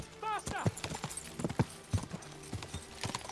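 Rhythmic hoofbeats of a horse galloping in Kingdom Come Deliverance 2, close and fairly loud, with a brief whinny early on and someone talking over the riding.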